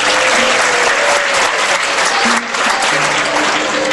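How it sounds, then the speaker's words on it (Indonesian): Sustained applause from an audience at an Islamic sermon gathering, dense and loud throughout, steady clapping with no clear talk over it. "Tepuk tangan nggak apa-apa."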